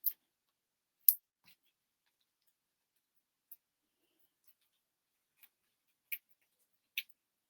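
Scissors snip the leftover paper edges from a craft project, giving a handful of faint, sharp, isolated clicks spread out over quiet, with no talking.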